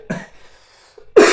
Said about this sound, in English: my laugh become coughing